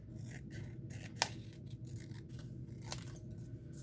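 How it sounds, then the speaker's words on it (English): Scissors snip along the paper edge of a handmade junk journal: quiet scraping and rubbing, marked by two sharp, distinct cuts a couple of seconds apart, close by, with no talking. "I'm going to snip off some of the edge"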